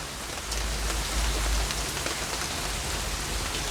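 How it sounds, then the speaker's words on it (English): Steady rain falls on a surface, a dense close hiss of drops with a low rumble underneath, continuous and alone with no voices. "Yeah, it's raining."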